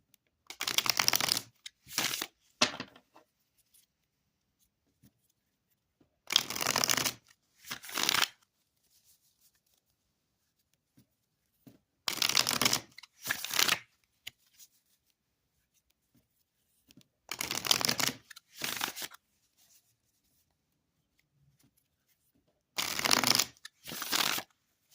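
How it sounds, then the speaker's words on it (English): Five separate bursts of a deck of playing cards being riffle shuffled, each a quick crisp flutter of about two seconds with quiet pauses between, close and clear with no voices. "give us a little riffle because it feels like It is going to riffle like a dream"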